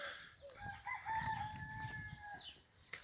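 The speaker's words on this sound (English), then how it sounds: "I can see his chicken. I can see the rooster." A rooster crows outdoors at a quiet, distant-sounding rural spot beside an off-grid home, one long drawn-out call with a few clucks, faint and alone with no talk over it.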